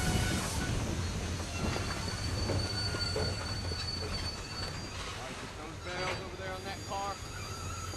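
A train pulling in at a station platform, a steady rumbling roar with metallic wheel squeals rising near the end, fairly close and continuous.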